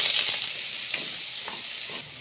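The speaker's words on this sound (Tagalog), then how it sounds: "Unahin natin muna yung sibuyas sa pagigisa." Onions sauté in shallow hot oil in a pan for a Filipino pork kilawin, giving a steady close sizzle with a few small spatters, then a slight drop in intensity near the end.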